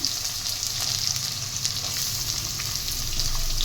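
Chopped potato with onion, garlic and ginger fries steadily in oil for lemon rice, a continuous close sizzle with light stirring over a low background hum.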